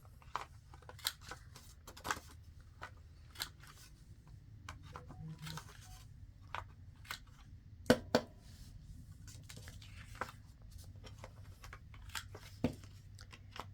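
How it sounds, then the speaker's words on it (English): Paper card corners rounded with a corner rounder punch, sharp intermittent clicks and crunches, one louder double snap, over faint rustling of card handling, close and quiet with no talk. "I'm going to go ahead and round my corners"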